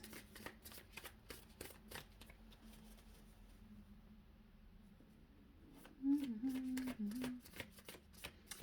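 Tarot cards are shuffled by hand in quick, crisp riffling bursts and soft slaps, close up in a quiet room, with a brief low voice-like hum near the end.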